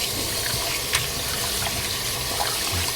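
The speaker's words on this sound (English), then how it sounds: "Now just rinse it with some fresh water." Tap water runs steadily over raw chicken thighs in a bowl, a continuous close splashing rinse with small shifts as the meat is handled and no one speaking.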